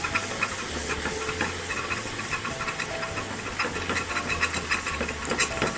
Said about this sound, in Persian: الان شیر رو بهش اضافه میکنم.